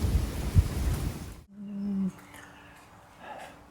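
A backyard thunderstorm begins with a loud, dense rumble of thunder and heavy rain, then cuts to quieter rain with a low hum and faint sounds behind it.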